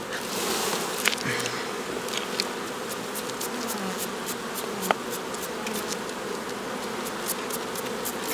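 Honey bees of the Carniolan strain buzz at the hive, a constant close droning hum with occasional faint clicks, no voices present.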